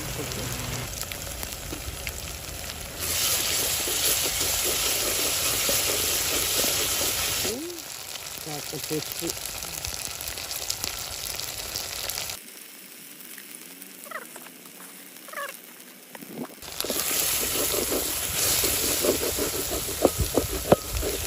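Ginger garlic paste sizzling in a pan for a boti curry, a crackling, patter-like frying hiss that drops out and returns in stretches, with no one speaking.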